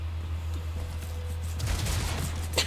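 Gunfire in XCOM: Chimera Squad comes as a rapid burst of shots toward the end, over a steady low game hum.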